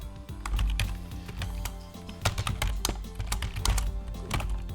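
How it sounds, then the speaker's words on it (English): Rapid, continuous clicking of a computer keyboard being typed on close up, with uneven bursts of keystrokes and no talking. "Typing while recording is always prone to errors."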